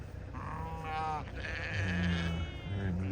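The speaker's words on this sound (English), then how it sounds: "It is a good day when all sheep seem to be happy and healthy." Ewes on a farm bleat repeatedly, several overlapping calls at close range, loud and clear against a quiet outdoor background.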